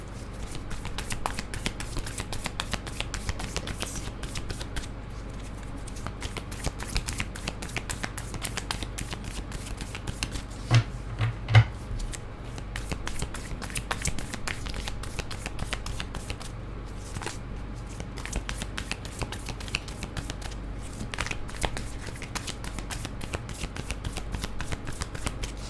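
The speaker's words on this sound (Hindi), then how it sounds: "मैं नहीं ले रही कार्ड कि मुझे भी और शफल करना है" Tarot cards are shuffled steadily and continuously at close range for the whole stretch, a dense run of crisp riffling flicks with no talking over it.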